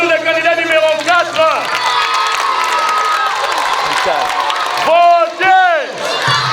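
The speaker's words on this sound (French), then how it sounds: "Est-ce qu'on peut applaudir le candidat numéro 4?" A school debate crowd of children cheers and shouts loudly for a candidate, with high excited yells rising and falling over a busy crowd din and light clapping.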